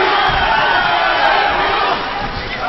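A boxing crowd roars and cheers in a dense, continuous wall of voices during a bout between Simon Santana and Mohammed El-Mir, loud throughout.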